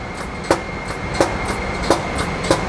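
A HiP T-Series pump runs through an initial air cycle, giving off a sharp rhythmic click or thump roughly every half second over a constant mechanical hum.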